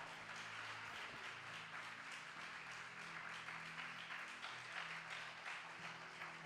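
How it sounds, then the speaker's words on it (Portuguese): A church conference congregation applauds in a faint, distant wash of steady clapping, with sustained musical tones underneath. "Pode aplaudir porque Ele está."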